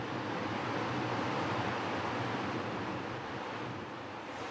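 The Minjiang river flowing across the Chengdu plain, a steady, dense rushing wash of water that holds constant throughout with no voices.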